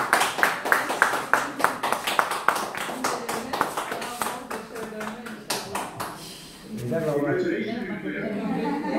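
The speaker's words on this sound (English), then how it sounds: "Applaudissez là, applaudissez." Rhythmic applause at a PhD defense in a Turkish university, a run of sharp claps from a small group fading out after several seconds, followed by people talking.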